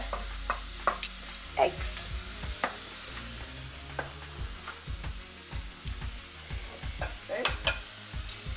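Rice sizzles in a quickly heated wok while being stirred and spread out to clear space for eggs, with frequent spatula scrapes and taps over the frying hiss and brief speech near the start.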